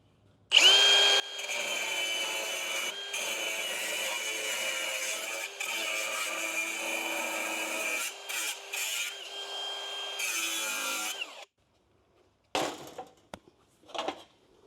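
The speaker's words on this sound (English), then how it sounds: "So we're going to start with our cutoff." Cutoff tool slicing through sheet metal inner fender panel, a loud high-pitched whine that grinds continuously for about ten seconds with brief dips, then stops, followed by a few short clanks.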